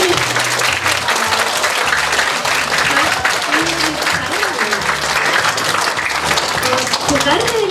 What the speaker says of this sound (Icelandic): Ef að klappa eins hátt og við getum í neinu.